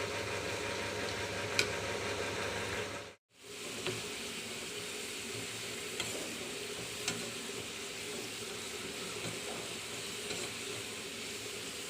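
Onions fry for biryani in hot oil, giving a steady, faint sizzling hiss that runs almost unbroken, with a brief gap near the start and a few light clicks, distant and quiet, no talking.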